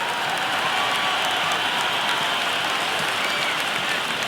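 A cricket crowd in the video game Cricket 26 applauding a boundary during an Ashes Test match; loud, continuous, rain-like clapping from a large stadium audience that holds steady throughout.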